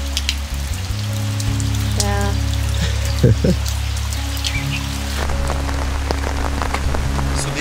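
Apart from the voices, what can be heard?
rain falling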